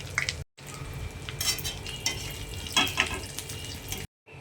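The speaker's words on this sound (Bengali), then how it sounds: "এবারে ওই তেলেতেই ফোড়ন দিয়ে দেবো, লঙ্কা, পাঁচফোড়ন আর তেজপাতা।" Chilli, five-spice seeds and bay leaf tempering in hot oil crackle and sizzle close by, with stirring scrapes and brief popping bursts, broken by two short silent gaps.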